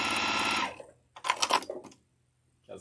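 A sewing machine piecing fabric runs in a short steady burst, whirring close and loud, then stops, followed by a brief rustle of handling.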